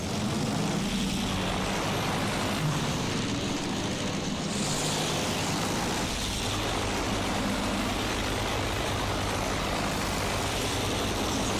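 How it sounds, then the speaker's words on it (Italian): An enemy propeller fighter plane in the video game Battlefield 1 drones steadily at a distance, a broad, faint engine roar with a slight swell midway and no talk. "Quello è un aereo nemico."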